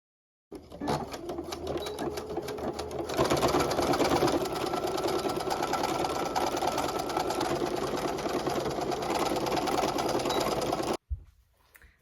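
A sewing machine stitches quilted vest pieces, a close, steady rapid whirring clatter that runs continuously for several seconds before stopping abruptly.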